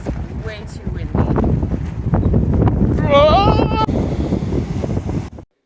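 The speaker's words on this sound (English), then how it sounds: "it's way too windy" Strong wind buffets the microphone on the Oregon coast, a loud rumbling gusty roar that lasts several seconds, with a brief high squeal partway through before cutting off abruptly.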